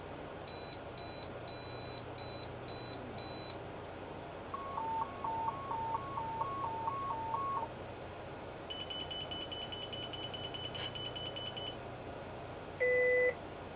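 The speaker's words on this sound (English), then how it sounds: "It's gonna set off all the alarms." Electronic alarms beep at a missile facility during preparation of a Minuteman III for shipment, with several distinct patterns of repeated high tones: fast pulsed bursts, a two-tone alternating run, a sustained buzzing chirp, then single short beeps.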